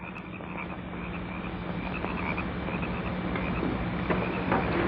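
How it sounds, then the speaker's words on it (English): A dense, steady chorus of croaking frogs or big insects fills a jungle night scene in an old movie, continuous and fairly loud throughout, with a low hum underneath. "Crickets. I hear crickets. Big crickets."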